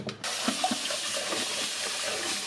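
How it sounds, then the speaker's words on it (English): Tap water runs steadily into a sink while fresh coriander and mint are washed, a close, continuous splashing rush with small irregular spatters throughout. "And wash the coriander and the mint."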